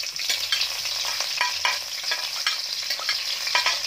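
Garlic and onions frying in oil for a chicken curry, a steady close sizzle with repeated stirring scrapes, no talking.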